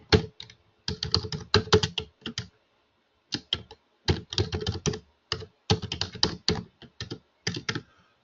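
Rapid typing on a computer keyboard, bursts of dense key clicks separated by short pauses, close and clear with no talking.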